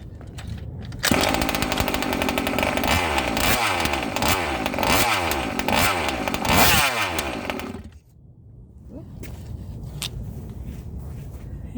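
Small nitro engine, probably on a hobby vehicle, starting up loud and close with a harsh buzzing roar and rising revs that cut out sharply, then a lower, rougher running sound.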